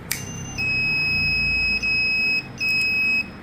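Alarm buzzer of an Arduino and ESP8266 IoT fire alert system triggered by a flame sensor, sounding loud, steady high-pitched electronic tones in three long bursts with brief gaps, close by and alone.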